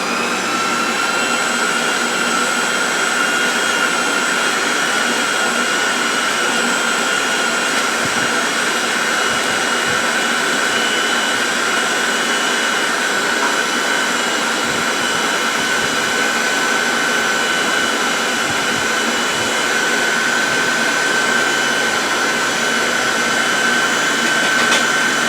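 Electric mixer blending a sweet potato, yam and banana pie filling runs as a steady, loud, unbroken whir with no talking.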